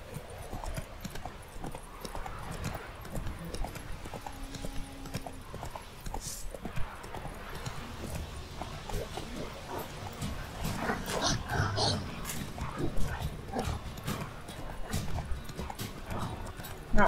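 Roach, the horse in The Witcher 3, runs with a steady rhythmic clip-clop of hooves over a low ambient bed, with a faint whinny and game sounds mixed in.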